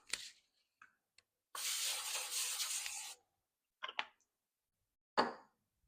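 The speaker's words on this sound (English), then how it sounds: "Non-stick spray." Non-stick cooking spray hisses out of a can in one steady burst about a second and a half long, surrounded by a few faint clicks and taps in a quiet room.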